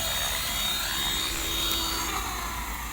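A Devil X360 RC helicopter with a GY H1 gyro flies steadily outdoors, its rotor and motor making a continuous broadband whine with a faint high tone, holding even loudness throughout without talk.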